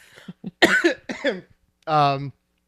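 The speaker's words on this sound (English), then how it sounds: "Sorry, I'm gonna cough through this like this." A single rough, raspy cough bursts out after a few short spoken words, loud and close, followed by quiet.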